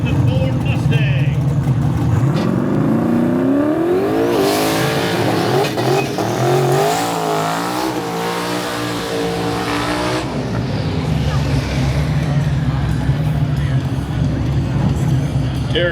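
A Chevy Nova and a Ford Mustang drag racing on a public road in Duluth, Minnesota: loud engines rev and rise in pitch through the gears as the cars launch and roar away, then fade into steadier rumble, with an announcer talking over it.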